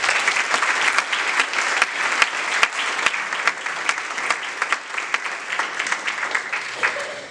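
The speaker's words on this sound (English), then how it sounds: "Let's give today's recipients and their families one more round of applause" A packed room claps loudly and continuously for Topeka West High School Graduate Hall of Fame recipients and their families, a dense, sustained round of applause.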